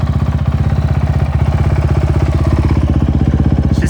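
Honda CRF450X dirt bike, a 2025 model fitted with an FMF exhaust pipe, idling loud and close with a steady rapid thumping pulse throughout and no talk.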